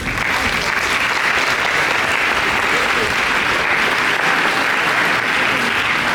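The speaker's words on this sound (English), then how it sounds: "Please give them a round of applause." An audience at a media day gives sustained applause, dense and steady clapping that carries evenly from start to end with no voices rising above it.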